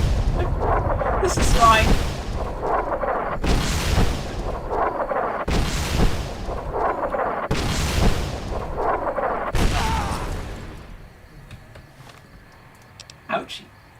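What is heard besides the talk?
gunfire shooting at the player in the video game Fallout New Vegas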